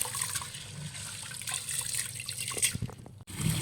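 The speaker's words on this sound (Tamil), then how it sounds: "பச்சை பட்டாணி ஒரு 1/2 கப்பு சேர்த்து நல்லா கழுவி எடுத்துக்கிறோம்" About half a cup of green peas is washed in water for sambar rice, with steady close sloshing and splashing that pauses briefly near the end and then resumes, and no talk.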